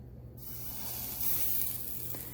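A battered zucchini blossom hits hot oil in a pan and bursts into a steady, bright sizzle that holds and swells slightly, close up and with no talk over it.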